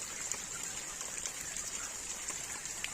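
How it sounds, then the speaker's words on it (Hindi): Light rain falls steadily on a poultry farm, a soft even hiss with scattered faint drips, fairly quiet and uninterrupted. "इस समय बारिश हो रही है"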